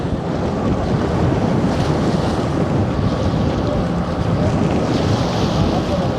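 Choppy sea slaps against a boat on a trip back from Iona while strong wind buffets the microphone, a loud, continuous rushing roar with no let-up.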